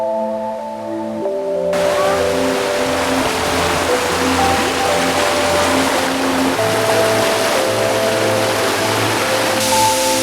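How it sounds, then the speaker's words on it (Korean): A roaring waterfall, newly formed by heavy rain along a forest trail in Agawa Canyon near Sault Ste. Marie, Ontario, rushes in a loud continuous wash, with a tonal hum like a distant train or engine running underneath. "이 폭포도 갑자기 생긴 거라고 하는데 소리도 웅장한 게 볼만하죠?"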